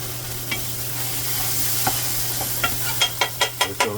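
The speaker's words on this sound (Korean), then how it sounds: "불을 세게 해주고 이렇게 볶아줍니다." Vegetables stir-fried over high heat in a wok for jjamppong give off a steady sizzle, with sharp spatula scrapes and clacks growing quicker and louder toward the end.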